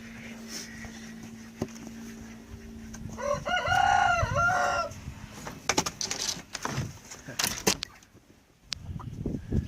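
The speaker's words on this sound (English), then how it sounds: "the chickens are wondering what all the action is. They're coming out." Chickens call out nearby on a homestead, with a loud, drawn-out crowing cry in the middle, surrounded by scattered clucks and rustling movement.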